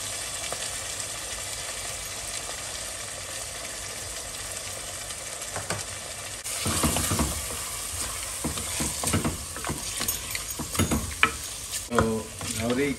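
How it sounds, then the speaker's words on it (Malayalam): Kerala-style chicken curry with black pepper sizzles steadily in a pan, then a spoon scrapes and stirs through it in repeated uneven strokes over the continuous frying hiss. "കുരുമുളക് ഇട്ടിട്ട് നല്ല മിക്സ് ചെയ്യുക ചിക്കനിനെ"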